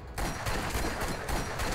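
Sustained automatic gunfire in Borderlands, a steady rattling stream of shots over nearly two seconds, starting abruptly and continuing without a break.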